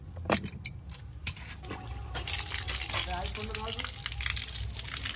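Water runs steadily from a tap after a few sharp clicks and jangles at the start, a continuous rushing gush at moderate loudness that fills the second half.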